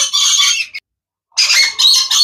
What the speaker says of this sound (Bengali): এটা ইয়েলো কালার লরি।